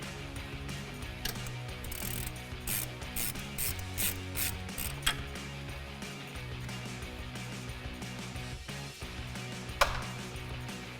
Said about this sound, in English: to undo this bolt here on the brake hose and the caliper